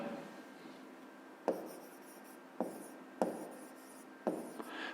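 Handwriting strokes for a fifth-grade math exercise come as four or five distinct scratchy bursts at irregular intervals, close and quiet, over a faint background hiss.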